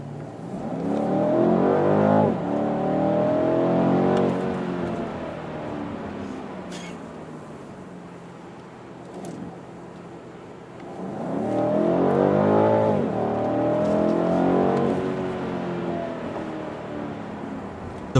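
A 2019 BMW M850i Coupe pulls hard at full throttle, its engine note rising in two strong surges with a brief dip between as it shifts, loud and close from inside the car.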